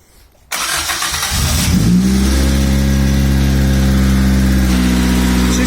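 A Honda Del Sol's D16Z6 engine cranks and catches, then settles into a loud, steady rumbling idle up close.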